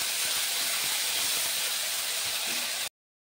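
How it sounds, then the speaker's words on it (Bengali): Ginger paste fries in a pan with a loud, even hiss and sizzle that runs steadily and then cuts off abruptly. "এবার আমি আদাটা প্রথমে ভালোভাবে একটু কষিয়ে নেব"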